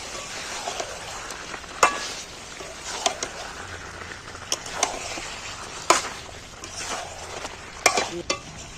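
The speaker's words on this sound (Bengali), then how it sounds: "আমি চার পিস আলুও ডবকাই তুলে দিচ্ছি নাড়তে নাড়তে সেদ্ধ হয়ে যাবে" Potatoes stirred into a pan of chicken curry as they fry, giving a steady soft sizzle broken by scattered clinks and scrapes of a spoon against the pot, close by and with no talking.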